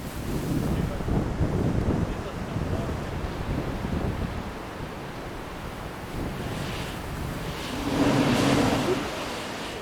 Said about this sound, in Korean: 바람이 나오는 구멍이란 뜻의 이곳은 자연이 만든 천연 분수입니다.